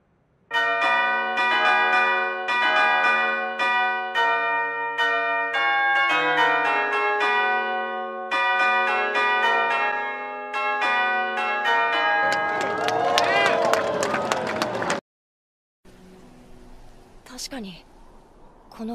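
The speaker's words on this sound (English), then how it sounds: "we're going to let you listen to the entirety of this last midday chime for some time" Church bells ring a long midday chime, clear and loud with overlapping tolls and layered ringing that swells for about fifteen seconds before cutting off, followed by faint distant noise.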